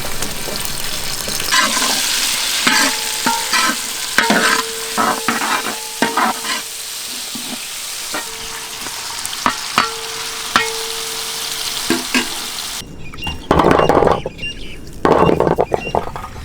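Green chili and tomato fry with onions in a pan for a tiger prawn garlic curry, a steady loud sizzle with scraping stirs and clanks of a spoon against the pan, growing choppier toward the end.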